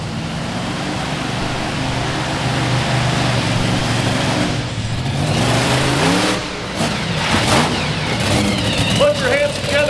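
A Samson monster truck at the Lucas Oil Monster Truck Nationals, Indiana State Fair, Indianapolis, roars and revs continuously with a loud, rising engine note, while an announcer's voice talks over it through the arena.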